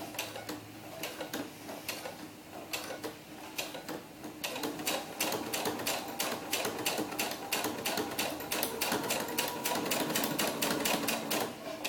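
A sewing machine stitches sequin trim onto a doll's headband with a fast, steady mechanical clatter of needle strokes that quickens as it runs, close and moderately quiet.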